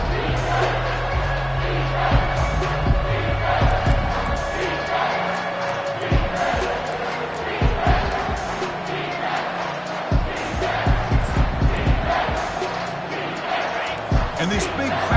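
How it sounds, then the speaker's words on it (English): A big football stadium crowd at Ole Miss versus Georgia roars steadily to back the defense near the goal line, a dense wall of cheering with sharp thumps and pops scattered through it. "And this big crowd doing everything possible to inspire this defense down here near the goal line."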